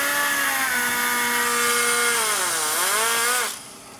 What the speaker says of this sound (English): So it makes the grinder not shake so much too.